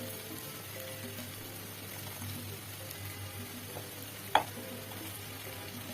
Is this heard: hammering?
no